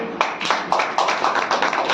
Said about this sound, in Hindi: और हम प्रभु यीशु मसीह के लिए भी तालियां बजाएंगे